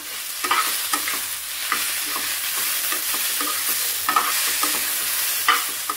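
Coriander, mint and tomato sauté in a pan, a loud close sizzle broken by repeated rhythmic stirring scrapes of a spatula, with no one speaking.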